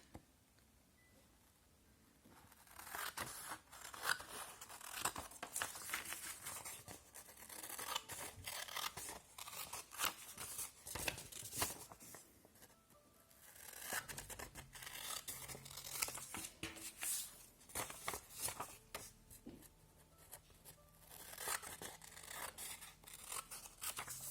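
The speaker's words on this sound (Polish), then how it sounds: "bierzemy do ręki nożyczki i wycinamy powstałe kwadraty. Czyli tniemy po liniach zgięcia." Scissors snip repeatedly through folded paper along the fold lines, cutting out squares, in bursts of crisp cuts, with crinkling and rustling of the sheet between, close and quiet.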